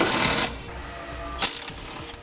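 Ratchet wrench clicking as 12 mm bolts are loosened from the bumper of a 2006 Yamaha Kodiak ATV, with a burst of rapid ratcheting near the start and another partway through, close and fairly loud.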